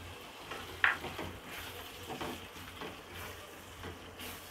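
Spices for a beef Shahi Rezala fry in a pan with green chilies added, a faint, low sizzle with soft stirring and one sharp clink near the start.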